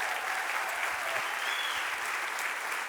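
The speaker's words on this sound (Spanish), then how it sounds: "dale un fuerte aplauso al Señor" Church audience applauding steadily throughout, a dense wash of clapping that stays loud and even from start to finish.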